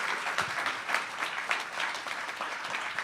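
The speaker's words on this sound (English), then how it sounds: "If you give these gentlemen a round of applause, please." An audience applauds steadily for guest speakers at a talk event, a dense continuous patter of many hands clapping at moderate loudness with no speech over it.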